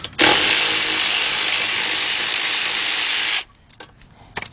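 Power ratchet or impact tool spinning out the brake line bolt on a 2010 Honda Accord 2.4, one loud continuous buzzing run of about three seconds, close up, followed by a few faint clicks.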